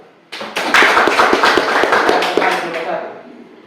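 An audience in a classroom presentation session claps for a student group, a burst of many hands starting abruptly, staying dense for about two seconds, then thinning out and fading near the end.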